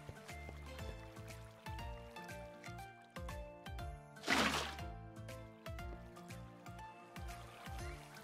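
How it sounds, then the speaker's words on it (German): Water spouts from a gargoyle in the Minecraft video game, giving a soft continuous trickle beneath game music, with one brief louder splash near the middle. "Der spuckt Wasser. Der muss noch Wasser spucken."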